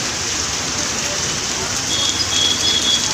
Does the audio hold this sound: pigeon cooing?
no